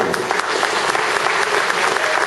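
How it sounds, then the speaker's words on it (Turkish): A theatre audience at a Turkish theatre performance in Gagauzia bursts into dense, sustained applause. The clapping stays loud and even throughout, with a faint voice briefly underneath. "Efendim Bülent Bey'e bir kocaman alkış alalım."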